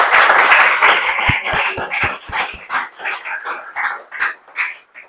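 Audience applause after a physics lecture on quantum matter swells loud, then thins into scattered, separate claps that taper off over several seconds, with a dog barking repeatedly among them.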